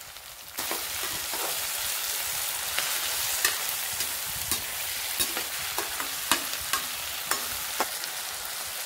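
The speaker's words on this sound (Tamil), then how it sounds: "இப்போ சேர்த்து எல்லாத்தையும் வதக்கி விட்ருவோம்" Onions and tomatoes sauté in a pan for Tamil-style onion kosu. A steady close sizzle runs throughout, broken by regular scraping clicks of stirring.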